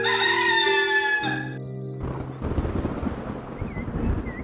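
A rooster in an animated moral story gives one loud, drawn-out cock-a-doodle-doo crow, then clucks and rustling noises follow briefly and close up.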